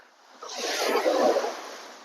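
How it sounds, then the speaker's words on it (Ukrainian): A single sea wave washes onto the shore of a Greek island coast, a soft hissing swell that rises and then fades over about two seconds, heard alone and fairly quiet. "Як плескає море у берег."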